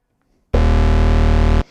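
Moog Matriarch house bass of two square waves an octave apart, one loud, gritty sustained note held for about a second with an abrupt start and a quick fade on release.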